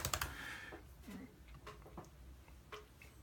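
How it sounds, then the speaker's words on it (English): Light, uneven typing on the butterfly-mechanism keyboard of a 2016 15-inch MacBook Pro, soft quiet clicks tapping out at a hesitant pace with gaps between keystrokes. "I'm going to start typing for the first time."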